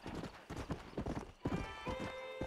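Horse hooves in the Red Dead Redemption video game, clip-clopping in a steady rhythmic gait, fairly close, joined by a brief whinny and game sound effects.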